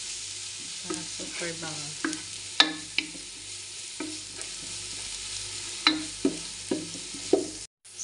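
Meat browning in a pan for a Filipino-style spaghetti sauce, fried until dark brown: a soft steady sizzle under a run of clinks and scrapes as it is stirred. Two brief words are spoken.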